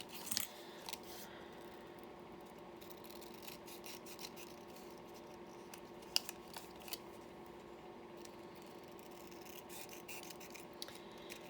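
Scissors trimming Rolodex cards make quiet, close snips and paper rustles, with a few sharper cuts standing out over a faint steady background hum.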